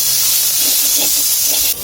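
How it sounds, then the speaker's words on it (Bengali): Garlic and nigella seeds frying in oil in a hot pan give a loud, steady close-up sizzle and hiss that runs almost without a break, dropping off briefly at the very end. "মা এখন কালিজিরা দিয়ে দিচ্ছে, ভালো করে ভেজে নিবে।"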